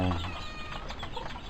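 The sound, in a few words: chicken clucking on a farm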